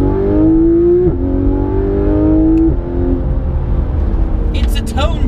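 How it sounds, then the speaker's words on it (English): Porsche 991 GT3 RS engine droning as the gearbox shifts, with its tone stepping up about twice over a few seconds, loud and close inside the car; a few brief clicks near the end. "listen to the gearbox change on this"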